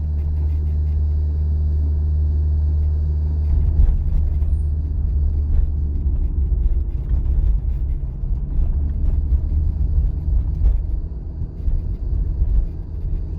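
Steady, close engine and road rumble from a car driving along a driving-test route, a constant low drone with faint road noise and no talking.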